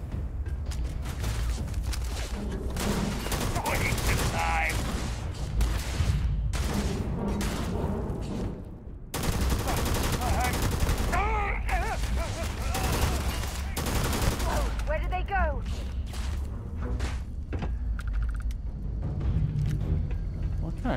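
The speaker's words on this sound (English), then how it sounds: "What kind of shotgun shells are those?" Enemy shotgun blasts and combat in Starfield, repeated heavy shots and mechanical clatter across a long firefight, nearly continuous with a short lull midway.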